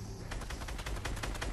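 Gunfire in the Fortnite video game, a rapid string of loud shots fired in a fast rhythmic burst, close and continuous.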